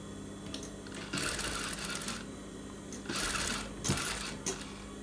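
A sewing machine stitches piping onto a blouse in two close, steady whirring bursts of rapid needle clatter, separated by brief pauses and small handling knocks.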